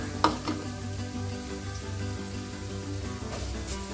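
Carrots and beans sizzle in a hot pan for egg fried rice, giving a steady frying hiss. A couple of sharp knocks from a spatula or utensil stand out near the start and again later, with no talking.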